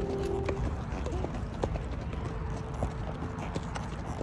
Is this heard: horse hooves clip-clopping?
yes